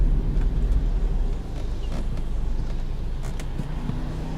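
A 2016 Mini Cooper 1.5 drives in sport mode, with a steady low engine and road rumble inside the cabin that dips briefly, then holds level with faint clicks.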